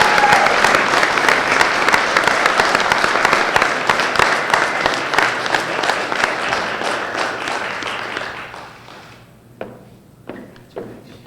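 Audience applause at a university business model competition award ceremony, a dense sustained clapping that thins out near the end into a few scattered, isolated claps.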